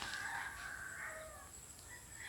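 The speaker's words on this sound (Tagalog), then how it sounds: "tingnan nyo guys yung mga manok na to guys" Chickens on a farm where corn has been planted give off faint, fairly distant crowing and clucking, with drawn-out calls rising over a steady background hiss and no talking.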